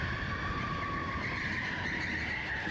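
An electric HQ Racing car drives at speed, its motor and servo giving a steady high-pitched whine with tire noise underneath, continuous and close throughout.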